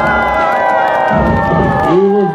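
A crowd at an outdoor festival cheers and shouts loudly in support at the start of contests, sustained voices with whoops and calls.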